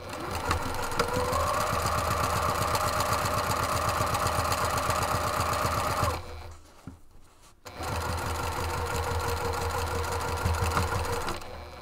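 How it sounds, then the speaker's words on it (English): Sewing machine stitching a seam on a desktop caddy made with Annie Soft and Stable and Pellon 808 stabilizer, a rapid steady needle rhythm up close, stopping briefly around the middle before running again. "Just line that up and stitch from the top to"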